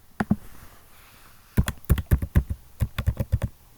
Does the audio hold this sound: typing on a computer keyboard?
yes